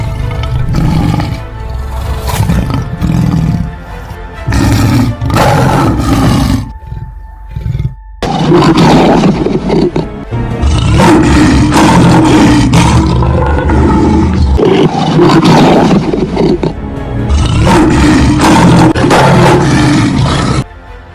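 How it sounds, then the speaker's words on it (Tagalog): Two lions roar in heavy, close bursts, with deep growling calls repeating one after another and brief pauses between them. "Tila nabuhusan ng malamig na tubig nang makita ni Aladin ang dalawang leon na umaaligid kay Florante."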